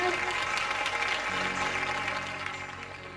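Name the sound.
congregation applause at prayer meeting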